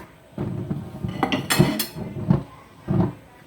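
Mixed toppings for crispy-noodle rad na are stir-fried, with a metal utensil clanking and scraping against the pan in irregular knocks and bursts, close and moderately loud.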